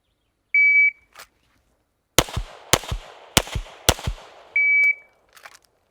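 Pistol drill on a range: an electronic shot timer beeps, then four sharp handgun shots ring out in quick, evenly spaced succession before a second timer beep ends the string.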